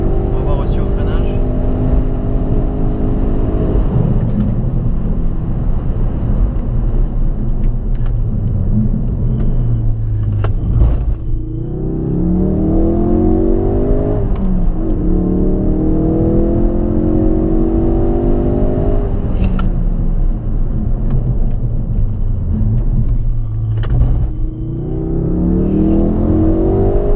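A Ford Focus RS engine rises and falls through repeated acceleration runs and braking, a loud rumbling drone with rising whirs, under near-constant conversation from people inside the car.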